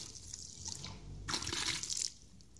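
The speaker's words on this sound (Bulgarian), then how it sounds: "Аз ще му добавя още малко вода" Water is worked into a wet gypsum plaster mix, giving quiet sloshing and crackling bursts, with a louder, dense stretch near the middle before it settles back to a soft background.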